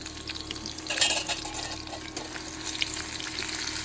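Chopped garlic and curry leaves fry and crackle in hot oil in a pan while being stirred, a steady close sizzle with scraping stirs and brief louder bursts, no voices.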